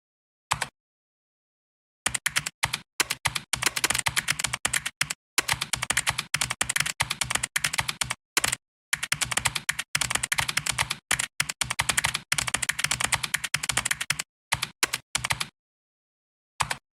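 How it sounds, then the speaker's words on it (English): Rapid typing on a computer keyboard, close and fairly loud, with dense bursts of keystrokes separated by a few short pauses and no talking. "Yes, you can hear me typing."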